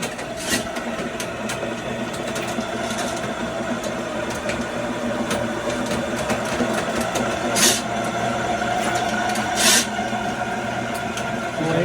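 Plumber's drain cleaning cable machine running to clear a household drain blockage, a steady mechanical whir and motor hum with occasional sharp rattling bursts, loud and close, no talk.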